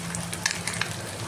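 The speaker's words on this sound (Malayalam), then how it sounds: "നമ്മുടെ മീൻ ഫ്രൈ റെഡിയായി കൊണ്ടിരിക്കുകയാണ്" Fish fries in a pan of hot oil, a steady close sizzle with small crackles and pops.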